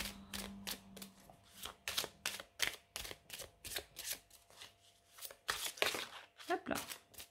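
Oracle cards are shuffled in repeated quick bursts, close and crisp, the riffles and slaps coming in an uneven rhythm.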